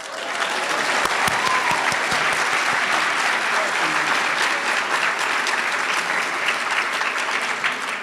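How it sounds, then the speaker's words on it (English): Audience applause during opening ceremonies of an annual general meeting after dignitaries are introduced: loud, sustained, dense clapping from a large room that holds steady for about eight seconds, with a few voices murmuring underneath. "Please applaud."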